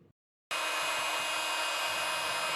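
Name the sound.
heat applied to decal on motorcycle luggage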